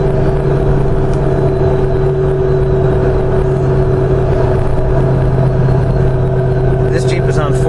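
A 2015 Jeep Wrangler JKU Rubicon with an LS3 V8, 6L80 automatic and 40-inch tires cruising uphill on the freeway, steady droning engine and road rumble with a light throttle touch and upshift, someone talking over it.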